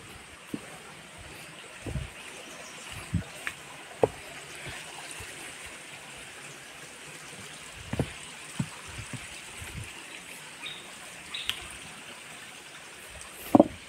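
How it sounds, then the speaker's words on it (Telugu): A stream at Ahobilam flows with a soft, steady rush in the background, broken by scattered nearby thumps and footstep-like knocks. "సౌండ్ వినిపిస్తుందా, వాటర్ సౌండ్?"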